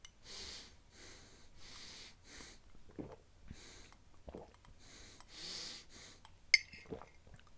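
Steady rhythmic breathing through a drinking straw while drinking water, airy hissing draws and exhales repeating close up, ending with a sharp click.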